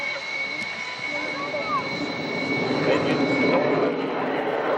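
Big jet fighter at a 1994 Woodford airshow climbing for a tail slide, a loud sustained jet roar with a high whine that swells gradually, heard in the open air with a voice talking over it.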